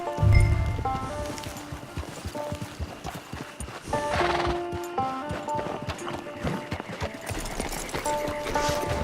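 In Red Dead Redemption II, a horse clip-clops along in a steady rhythmic gait with a whinny near the start, set against soft in-game background music and rustling.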